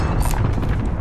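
Allied cluster strike explosions in a video game, a dense, loud rumbling boom with overlapping impacts lasting about a second, no speech.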